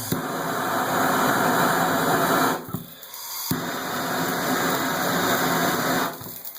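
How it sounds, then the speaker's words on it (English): Torch flame heating a Moen 1200 or 1225 faucet cartridge in place: a steady, close roaring hiss that runs continuously, drops out briefly near the middle, then resumes at full strength before cutting off. "we don't want to blast the torch with the flame because it may discolor it"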